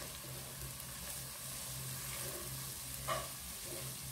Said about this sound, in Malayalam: ഇനി നന്നായിട്ടൊന്ന് വഴറ്റിയെടുക്കുക.